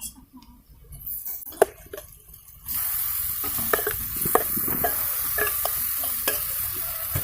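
Soya chunks drop into a pan of spiced oil and fry, a quiet scraping stir first, then a sudden strong sizzle that continues with sharp clinks and scrapes of a spatula, close by.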